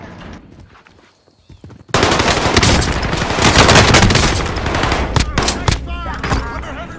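Automatic gunfire erupts loudly in a Call of Duty Warzone match, sustained bursts with scattered single shots that start abruptly after a quiet, muffled opening and continue to the end.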